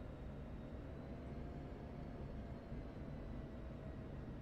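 An F-16 jet engine in the DCS flight simulator game gives a steady, loud, unbroken roar throughout, with no talking.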